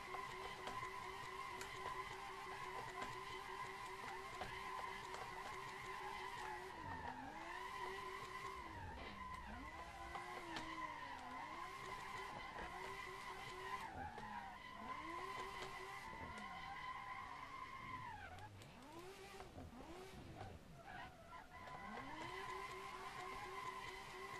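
A Tofaş car drifts on a mountain road in Assetto Corsa, its tires squealing in long, wavering skids over a steady droning engine, with the pitch swooping up and down as the car slides from side to side.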